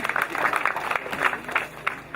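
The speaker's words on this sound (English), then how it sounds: "a round of applause." Audience applause at a university graduation ceremony, a moderately loud, steady patter of many hands clapping together with occasional sharper bursts, heard from within the crowd.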